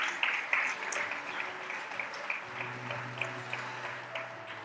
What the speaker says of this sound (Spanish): Un aplauso para José Antonio.